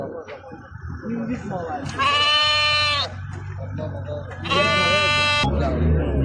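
Two long, loud lamb bleats, each about a second, at a livestock market in Mashtaga, Azerbaijan, with a steady low rumble and background chatter underneath.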